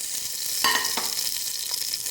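Cloves, cardamom, cinnamon, bay leaf and lemon hit hot oil with a steady, close sizzle and a few brief crackling spurts.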